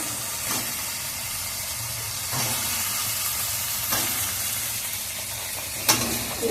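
Lilua greens go into a hot pan and fry with a loud, continuous hissing sizzle, with a few sharp stirring scrapes and clinks breaking through the steady noise.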